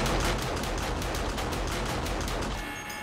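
Rapid automated turret gunfire in 7 Days to Die during a horde night, a fast rattling burst of repeated shots continuing for a few seconds at moderate level with no talk.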